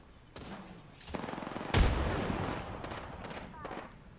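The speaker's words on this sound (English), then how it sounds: "That's where those shots are coming from over here." Video game gunfire cracks out in a few sharp shots and bursts, one heavy blast standing out, during a gaming stream with game ambience behind.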